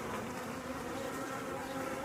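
Honey bees buzzing inside a hive ten days after a package install: a steady, faint, continuous hum with no breaks, close up, and no talking.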